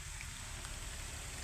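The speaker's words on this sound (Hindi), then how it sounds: "अब बारिश इधर शुरू हो गई है।" Steady light rain falling outdoors over farm fields during planting season, a constant soft hiss without pauses and no voices.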